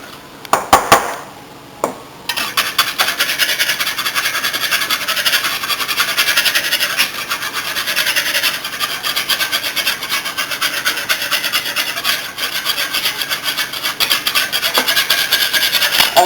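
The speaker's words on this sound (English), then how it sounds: "Now we want to whisk." Salad dressing whisked briskly in a bowl, a steady close scraping rasp of the whisk running continuously after a few sharp knocks at the start, with no talk.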